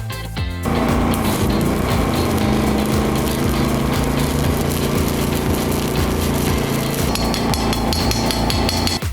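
Arc welding with a Rowel Arc 250G welder on 3.2 mm rod at 60 amps, powered by a Rowel RW3500iS 3.5 kW generator, a loud continuous crackling buzz that holds steady throughout.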